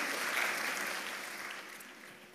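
A church congregation applauds during a sermon, giving a continuous soft wash of clapping that slowly fades over a couple of seconds.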